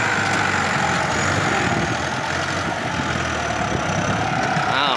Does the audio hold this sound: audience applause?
no